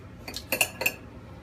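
A knife chops vegetables directly on a plate, giving four or five sharp, close clinks of metal on ceramic in an uneven cluster, with no talking.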